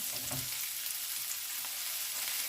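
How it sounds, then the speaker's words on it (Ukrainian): Onion fries in a pan toward a golden, translucent stage, giving off a soft, even sizzle at low volume with a faint stir or bump near the start. "Цибулька треба, щоб така зробилася, знаєте, не зовсім просмажена, але не пропарена а підсмажено такого золотистого прозорого кольору."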